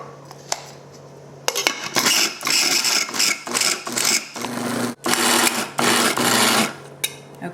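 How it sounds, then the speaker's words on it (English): A countertop nut and seed grinder pulses peppercorns in loud, rough whirring bursts that start and stop repeatedly over a steady low motor hum, close to the mic. "This is my nut and seed grinder, one of my favorite things. And we're just going to pulse it."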